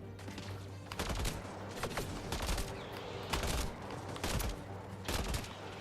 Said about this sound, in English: I hear a lot of fucking gunfire